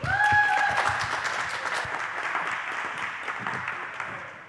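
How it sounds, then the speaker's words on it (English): An audience at a tech conference talk applauds for a speaker, a dense loud round of clapping that gradually fades, with a brief whistle at the start. "a big applause for Matthew"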